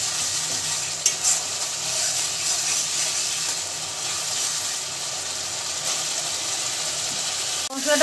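Spice paste for a tilapia fish curry cooks in oil while a spatula scrapes and stirs it in the pan, a continuous soft sizzle with occasional clinks and a sharper scrape near the end.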